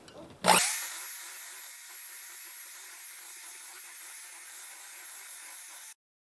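An electric mixer beating icing sugar into butter for buttercream frosting starts abruptly and runs as a steady whirring drone for several seconds before cutting off, loud and close with no voices.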